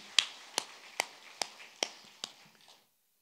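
A church congregation at a Korean Sunday worship service claps in unison: seven sharp, evenly spaced claps about half a second apart that fade toward the end, then silence.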